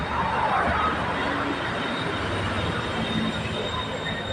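BTS Silom Line skytrain at Saphan Taksin station platform 3 in Bangkok, a continuous loud rumble of rolling cars with metallic wheel squeal and hiss, heard close from the platform.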